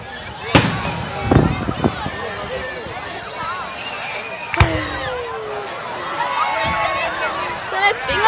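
Fireworks bursting overhead at a home display, sharp cracks with crackling trails and whistles, while people nearby chatter excitedly throughout.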